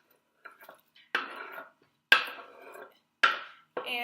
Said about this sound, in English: And then just gonna push in all of these onions.